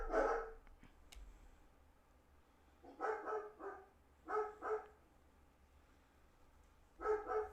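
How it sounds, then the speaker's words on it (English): Several dogs bark in short clustered bursts with long quiet gaps between them, fairly faint and somewhat distant, with no talking over them. "The dogs are going crazy."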